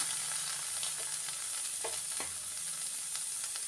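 Mustard paste stirred around a frying pan for a prawn dish, giving a low, steady sizzle with a few soft scraping clicks throughout, no voices.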